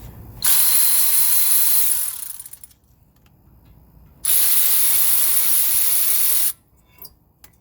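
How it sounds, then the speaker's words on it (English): A power ratchet loosens a brake caliper bolt on a 2006 Ford F150 during a front brake job, two loud sustained whirring bursts of about two seconds each, separated by a short pause. "After we break it free, then I put the ratchet on it."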